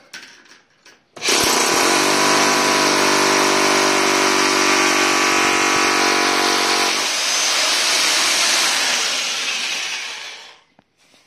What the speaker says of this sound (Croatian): Bušilica šestica.